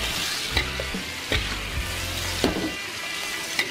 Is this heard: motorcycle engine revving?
no